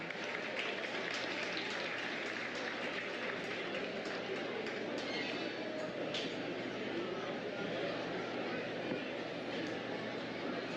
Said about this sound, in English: Give these kids a big round of applause